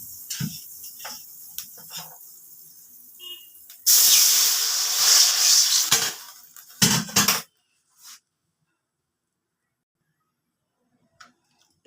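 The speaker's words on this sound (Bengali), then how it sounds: "কালো জিরাটা ভাজা হয়ে গেছে, এবার জল দিয়ে দিচ্ছি।" Water poured into a hot pan of black cumin tempering for tomato masoor dal sets off a loud, close burst of hissing steam that lasts about two seconds. A shorter hiss follows, then near silence with a few faint clicks.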